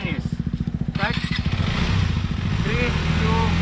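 A KTM dirt bike engine on a quarry trail putters in quick pulses, then revs up and holds a steady, loud, close drone, with someone speaking over it.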